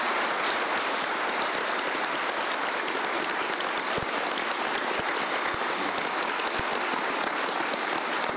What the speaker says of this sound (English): Round of applause for all the candidates who are on stage tonight.